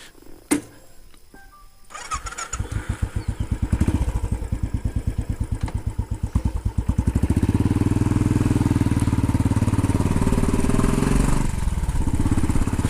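A Royal Enfield 500 Classic Chrome motorcycle starts up after a couple of clicks, its single-cylinder engine thumping in a steady, even beat and then pulling away loud and close on a ride on the Isle of Mull.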